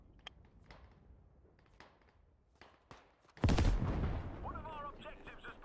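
An ammo cache is blown up in the tactical shooter game Squad: sparse, distant gunshots give way to one sudden, loud blast with a long rumbling tail. Voices may be faintly present.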